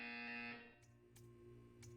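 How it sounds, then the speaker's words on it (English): A loud buzzer-like electronic tone from the video game Portal 2, holding steady for about half a second before cutting off, leaving a low hum with a few faint clicks. "When you hear the buzzer, stare at the art."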